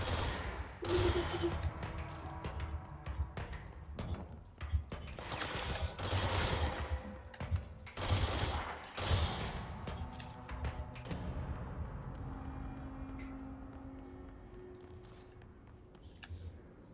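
Repeated bursts of heavy gunfire in the game Control, several loud volleys a second or two apart with thuds between them, thinning out and fading toward the end.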